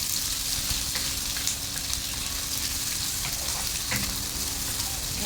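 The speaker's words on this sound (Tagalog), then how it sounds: "ilagay natin ang sibuyas. Gisa-gisa natin yan." Onions sautéing in a pan, a continuous soft sizzle and crackle with occasional stirring clicks and scrapes, close and moderately loud with no talking.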